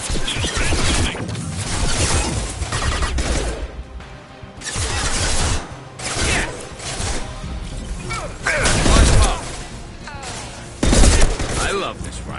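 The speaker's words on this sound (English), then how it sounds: "I love this rifle." Rifle fire in Mass Effect 2 (Legendary Edition on PS4) during combat, bursts of loud gunfire with crashes and impacts over several seconds, voices talking underneath.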